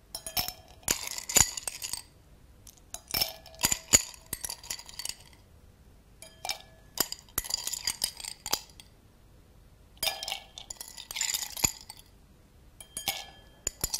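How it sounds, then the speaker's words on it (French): Ice cubes drop one after another into a glass as a digestif is prepared, giving bright clinks in uneven clusters separated by short silences. They are close and clear, and no one speaks. "Donc mettre tout simplement des glaçons à l'intérieur,"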